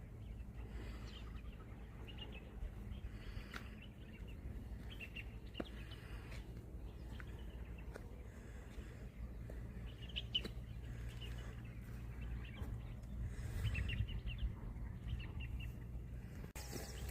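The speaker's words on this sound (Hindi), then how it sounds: "देखो पेड़ों पर कितने पक्षी" Many birds chirp and call from trees in a rural morning setting, scattered faint tweets and a few cluck-like calls over a low, steady background hum.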